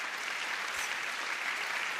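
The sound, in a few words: round of applause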